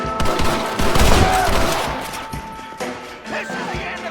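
Volley of gunfire in the video game Red Dead Redemption, a dense burst of overlapping shots and impacts that thins out after a couple of seconds, loud and close, mixed with shouting voices.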